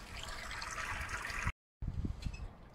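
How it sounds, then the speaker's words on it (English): Sparge water from a home beer-brewing setup trickles and drains steadily through a mash basket, a continuous close watery rush that drops out briefly and then returns more sparsely with a few splashy drips. "So as the water flows through, it's heating up already."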